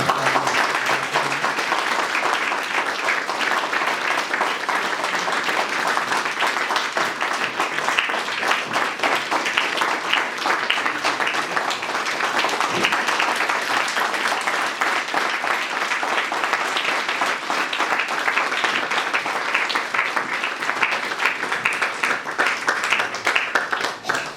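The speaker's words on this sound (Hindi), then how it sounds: "तालियां रुकनी नहीं चाहिए।" Crowd at a BJP office gathering applauds at length, dense sustained clapping from many hands, loud and even throughout with no letup.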